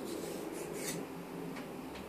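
Faint, dry scraping as a router bit cutter is dragged over a fine diamond sharpening stone, a few soft strokes close by in a quiet room.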